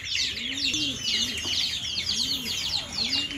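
Pigeons coo in soft, repeated rolling calls close by in a pigeon loft, while many smaller birds chirp busily and continuously in the background.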